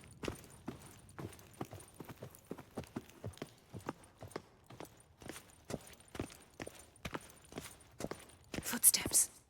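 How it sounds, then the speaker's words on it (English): Footsteps in The Witcher 3 tread steadily and fairly close, a regular series of soft thuds with quiet background ambience and a brief louder rustle near the end. "Footsteps."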